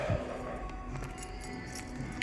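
A bunch of car keys jingles and clinks continuously for a couple of seconds, close by, with faint metallic chinks over a steady background hum.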